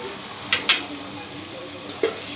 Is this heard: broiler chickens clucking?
no